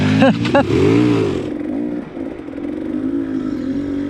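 A KTM 300 XCW two-stroke dirt bike engine fires up close and loud, with a sputtering burst and brief rising revs before settling into a steady idle.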